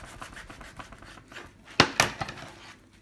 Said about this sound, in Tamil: இது மாதிரி நைஃப்பில் ஹாஃபாக கட் பண்ணிடலாம் சாண்ட்விட்சை.